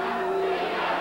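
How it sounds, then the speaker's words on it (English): Wrestling arena crowd chanting for a competitor during a women's title match, a loud, sustained wall of massed voices with no break. "The crowd chanting for Tina, and Aunt Kitty does not like it."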